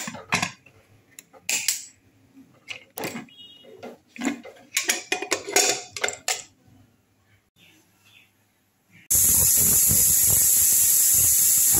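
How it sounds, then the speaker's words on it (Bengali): A pressure cooker holding gathi kochu (taro) and potatoes boiling with salt has its lid shut, giving sparse metallic clicks and clanks that end in a sudden, loud, steady hiss. "এবার আমি প্রেসার কুকারে ঢাকাটা বন্ধ করে দিচ্ছি"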